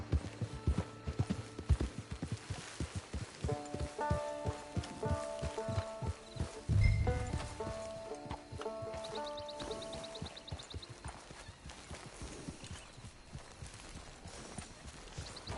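Horse hooves clip-clopping steadily at a walking pace in the game Red Dead Redemption 2 Online, close and even, with a brief low thump midway and faint melodic music underneath.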